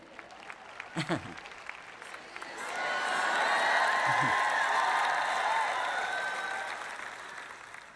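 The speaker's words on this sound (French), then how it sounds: "Maintenant, vous applaudissez quand je dis que Jésus revient." An audience bursts into applause during a Christian teaching session, rising after a couple of seconds of quiet room noise and a brief voice, swelling into a mid-distance wash of clapping with faint cheers before easing off.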